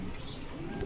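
Local Bogura Giribaj pigeons coo softly at a pigeon farm, a brief low murmuring call at close range.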